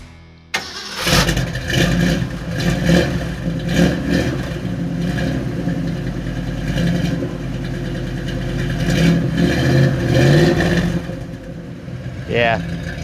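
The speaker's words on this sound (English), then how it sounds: "Yeah, that's a good sounding truck." A 1976 Ford F150 pickup's engine cranks and catches about half a second in, then runs loud and close, swelling with several revs before settling.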